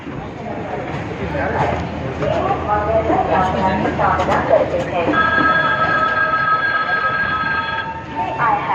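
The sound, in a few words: Indore Bhopal Express train at the platform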